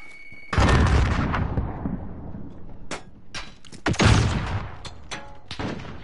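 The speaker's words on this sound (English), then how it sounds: "Allied cluster strike inbound." Cluster strike explosions in the Call of Duty multiplayer game: a loud burst of booming blasts and rapid gunfire-like detonations, with several sharp impacts in a row and heavy rumbling close by.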